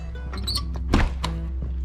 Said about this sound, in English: Doors like to freeze shut.